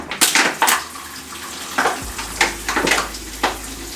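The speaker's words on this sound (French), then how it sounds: "je vais remplir ma bouteille d'eau, parce que j'ai soif." Water bottle filled at a tap, a close running trickle with faint splashes and a few knocks of handling, continuous and without talk.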